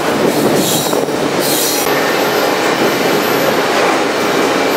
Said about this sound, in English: Train ain't slowing down. I'm wondering if this intermodal just goes straight through Jefferson City.